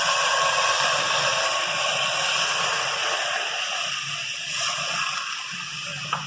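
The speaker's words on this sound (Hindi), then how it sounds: "और थोड़ा सा पानी लेंगे और इसमें डालेंगे।" A little water is poured onto small broken pieces of jaggery, making a steady close gushing hiss that eases slightly toward the end, with no voices.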